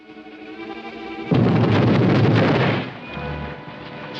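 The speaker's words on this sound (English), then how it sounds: "Explosion. Beneath bank." A sudden loud explosion under a bank in 1940s San Francisco, a dense roaring blast that holds for about a second and a half, then dies into a low rumble amid background music.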